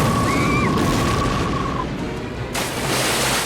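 A loud explosion from the film Anaconda, a dense rumbling boom filling the scene with a sustained roar and a sharp surge near the end, heard up close without speech.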